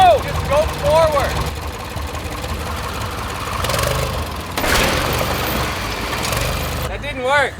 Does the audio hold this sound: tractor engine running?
yes